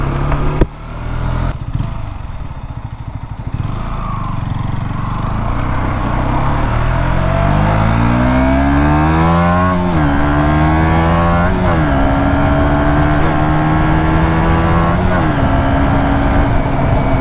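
A KTM 125 Duke single-cylinder engine, heard from the rider's seat, pulls loudly and steadily through repeated gear changes, each climb in revs followed by a short drop.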